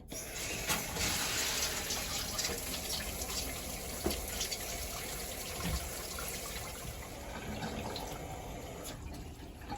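Running water filling a darkroom print washing bath: a steady, loud broadband rush and splash that continues unbroken throughout, close by, with no voices.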